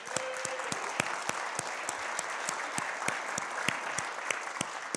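An audience claps for a blues band in a church service, a full, steady round of applause with sharp individual claps standing out, sustained and fairly close, with no voices over it.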